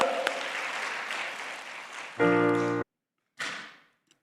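Christmas Day worship congregation in a Korean church bursts into applause lasting about two seconds, then stops abruptly, with a short faint burst trailing after; a dense tonal band sits under part of it.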